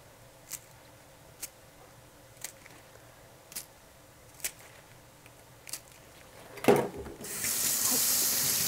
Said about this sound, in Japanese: しっかりほぐしながら洗っていきます。